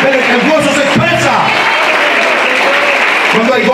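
A church congregation bursts into loud applause during an evangelical sermon, clapping steadily with voices calling out over it the whole time.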